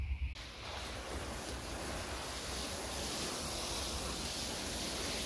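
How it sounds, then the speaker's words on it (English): A pot of old compost, soil and mixed leaves is watered, producing a soft, steady rushing splash that stays even and quiet throughout, with no voices. "now we'll give it a bit of a watering."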